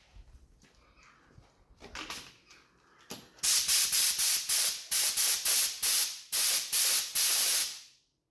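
A spray gun applies silver base coat paint to parts of a 1971 Honda CD175 K3 under restoration, firing about ten loud close hissing bursts in quick succession after some quieter handling noises.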